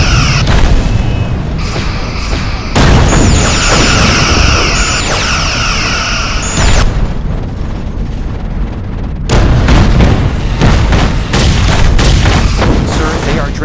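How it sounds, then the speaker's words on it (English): Heavy booming torpedo blasts in a Star Trek versus Stargate space battle with Voyager against an Ori fleet, loud repeated explosions with sustained roaring between them and brief synthetic tones, no speech audible. "Evading incoming torpedoes."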